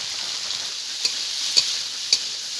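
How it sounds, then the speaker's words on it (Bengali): Mixed vegetables frying together in a pan, seasoned with salt and turmeric, make a steady high sizzle with three sharp spoon scrapes of stirring spaced through it, close and moderately loud, with no voices. "আমরা দেখুন সবগুলো সবজি আমি একসঙ্গে ভেজে নিচ্ছি"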